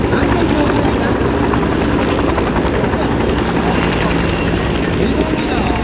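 Japanese military helicopter armed with a 12.7 mm heavy machine gun at an air festival combat training display, its loud, steady rotor thrum and engine roar continuous and close.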